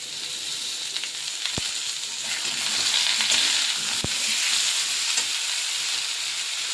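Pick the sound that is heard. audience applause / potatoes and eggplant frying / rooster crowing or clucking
potatoes and eggplant frying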